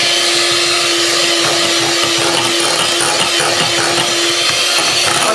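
An electric beater whirs steadily and loudly through red velvet cupcake batter, a constant motor drone with rattling texture and no pauses.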